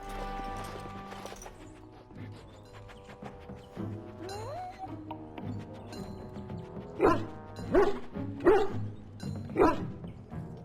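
A dog barks in the video game Dragon Age: Origins, a series of yips and barks that grow louder and more insistent toward the end. Game music and ambient tones play softly underneath.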